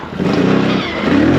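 A Can-Am X3 off-road side-by-side revs hard through a wheelie, its engine a loud, close, steady roar that dips briefly and climbs again, with no talk over it.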